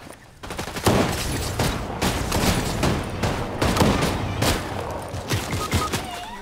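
Rapid gunfire rattles through a Fortnite match, dense overlapping shots and bursts firing continuously at close range, loud and sustained with no talk.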